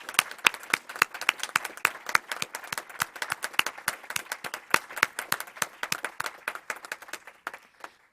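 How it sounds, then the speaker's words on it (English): Audience applause at a school board meeting, a brisk patter of many hands clapping close by for several seconds before thinning out and stopping near the end. "Let's give them another round of applause."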